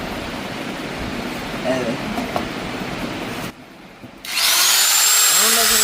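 A Pilot 1800 watt grinding machine buzzes steadily, cuts out briefly, then comes back on with a loud, high-pitched whine that spins up close at hand, and someone speaks over it.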